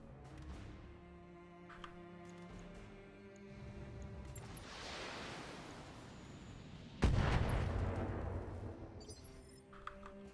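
Distant artillery and mech weapons firing in the video game Battletech, a quiet bed of rumble broken by a rising whooshing volley and then one sharp heavy blast that decays slowly, with a few faint clinks afterward.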